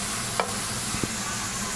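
Spice paste dropped into mutton and onions frying in a pan, a soft low sizzle throughout with a brief stir or clatter and a couple of small thumps, close and fairly quiet, no talk.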